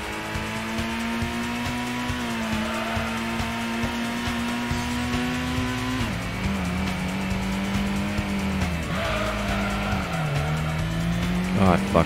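Nissan Skyline race car in Gran Turismo on the Trial Mountain circuit, its engine droning steadily and shifting pitch through gear changes, with tyre squeal through the corners, loud and continuous throughout.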